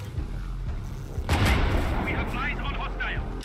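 A big explosion in the Sniper Ghost Warrior Contracts video game kills several enemies at once, bursting in loud and sudden after a low rumble and then ringing out in a long roaring tail.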